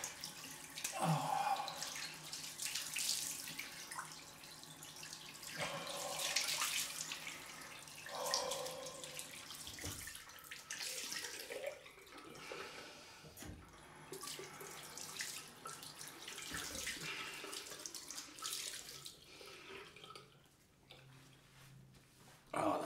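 Cold water runs from a bathroom tap for a rinse after a head shave, a steady close splashing stream that shifts as hands move through it, breaking off briefly before resuming, with no talk.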